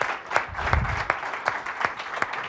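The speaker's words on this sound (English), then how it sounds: "I think we should give him a round of applause for" Audience applauding a presenter after a live software demo at a tech conference session, a moderately loud spread of many hands with a few sharper claps standing out, no voices over it.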